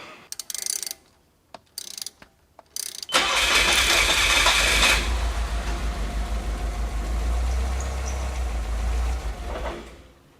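A Nissan Figaro just fitted with new spark plugs cranks in short bursts, then catches and settles into a loud, steady idle that runs close by for several seconds before cutting off.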